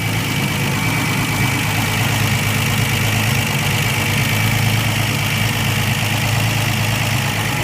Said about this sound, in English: You can hear the solid lifter camshaft now. Turbocharger wheezing away.